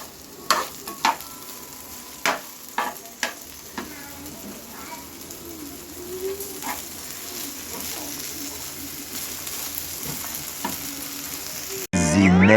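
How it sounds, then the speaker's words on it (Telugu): Okra fries in a pan with a continuous sizzle, broken at first by a few sharp clacks of stirring and scraping, the frying growing steadier and fuller toward the end. "ఇంక నేను బెండకాయలు వేయించుకొని తాలింపు ఇచ్చుకోవాలా."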